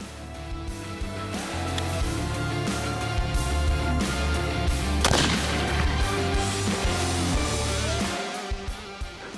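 A loud rifle shot at a red hartebeest on a hunt cracks out around the midpoint, a single sharp report standing out from a dense, steady rumble of background noise that fills the whole stretch.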